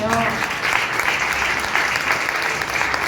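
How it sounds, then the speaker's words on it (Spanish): A church congregation claps together during a sermon, a dense, even wash of applause lasting a few seconds with no voices over it. "Dale un aplauso al Señor."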